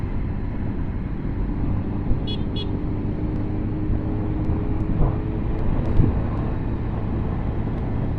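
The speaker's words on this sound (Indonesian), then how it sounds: "Awas, ada bis." Loud road traffic roar as a bus rumbles past close by on a road near Yogyakarta, Indonesia, engine droning steadily with a brief horn toot near the start.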